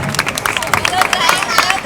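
A comedy show audience at a town festival claps and cheers briefly amid crowd noise and chatter, a lively burst of scattered hand claps close by.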